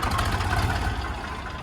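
A diesel tractor engine idles nearby, a steady low throbbing rumble that holds without a break.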